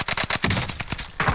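A quick burst of video game gunfire, about half a dozen sharp, loud shots in fast irregular succession, close and punchy, with a brief pause before a final report.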